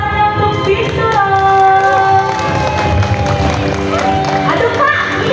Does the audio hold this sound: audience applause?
yes